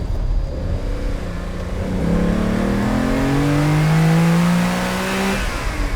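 A Lamborghini Countach, Ferruccio Lamborghini's personal car, revving hard and accelerating, its loud, close engine note climbing through the revs in rising sweeps.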